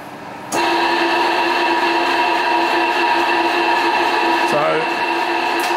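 A milling machine's horizontal spindle starts with a sudden jump in level and settles into a steady, loud mechanical hum and whine from a noisy gear train, with a brief clunk near the end.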